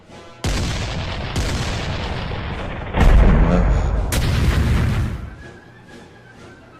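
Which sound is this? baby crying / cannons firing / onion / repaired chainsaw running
cannons firing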